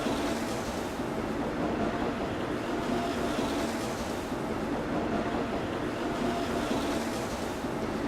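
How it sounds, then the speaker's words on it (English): A train rumbles steadily and loudly close by, with a continuous roaring, hissing wash and no clear pauses. "a train comes screaming into the station"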